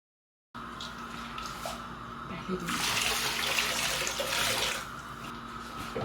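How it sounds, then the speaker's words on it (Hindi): Water poured into a pot of kadhi, a steady close splashing stream that swells louder midway and keeps running to the end. "1 लीटर वाटर ऐड कर दिया मैंने इसके अंदर"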